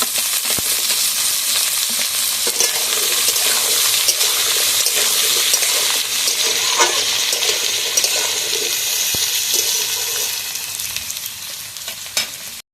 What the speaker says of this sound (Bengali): এই পেঁয়াজের মধ্যে আমি কেটে রাখা আলুগুলোও দিয়ে দেবো, দিয়ে একসাথে ভালোভাবে ভেজে নেবো।